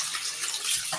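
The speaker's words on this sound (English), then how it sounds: "I'm just putting my hand under the running water and the sugar just kind of dissolves off there" Running tap water rinsing sugaring paste off a hand at a sink, a steady close hiss of flowing water with slight splashing changes as the hand moves under the stream.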